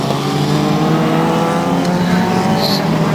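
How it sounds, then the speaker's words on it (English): Rear-engined Vauxhall Scorpion banger race car built by a family, racing on a raceway track: a loud, steady, buzzing engine drone held at high revs, with a faint voice underneath. "So this is the Vauxhall Scorpion, built by the family themselves, and a very, very swift car it looks indeed"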